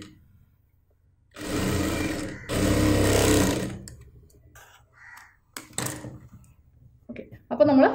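A sewing machine stitches churidar fabric made from an old dupatta, running in two loud sustained bursts of a few seconds each, followed by quieter intermittent whirs and clicks as the fabric is adjusted.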